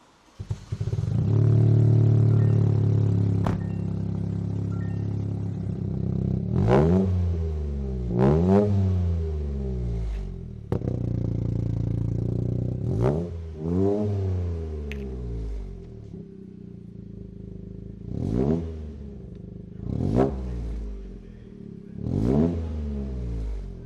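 A Toyota GR Corolla fitted with a solenoid dump valve is revved repeatedly while stationary, loud and close, each sharp blip rising and falling back to a steady idle, with short pauses between revs.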